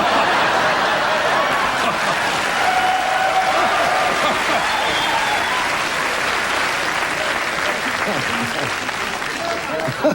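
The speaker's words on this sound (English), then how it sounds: "Thank you for that applause." Studio audience applause on a late-night talk show, loud and sustained throughout with a dense, even wash of clapping and a few chuckles mixed in.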